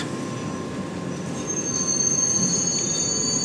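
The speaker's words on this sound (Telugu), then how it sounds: "కొన్ని ట్రైన్స్కి మధ్యాహ్నం టైంలో బ్రేక్లు వేస్తే బాగా హీట్ మీద ఉంటాయి కదా, కొంచెం ఎక్కువ సౌండ్ వస్తుంది" Kanyakumari Express brakes squeal in a steady high-pitched whine over the rumble of the rolling train, growing slightly louder partway through, with no voices.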